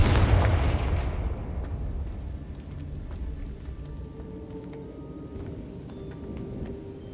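A Confringo blasting spell explosion in Hogwarts Legacy, a loud booming blast with deep low rumble that decays over several seconds into a softer crackling, debris-like tail.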